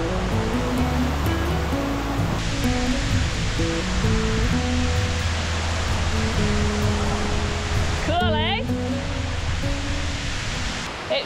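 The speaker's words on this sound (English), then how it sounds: "Waterfalls is right behind us." A mountain-top waterfall near a trapper's cabin roars steadily and loudly throughout, a dense continuous rush of water with some tonal sounds layered over it.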